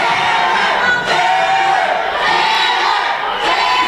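Wrestling show crowd in an arena cheering and shouting loudly and continuously, a dense roar of many voices that swells briefly around each second.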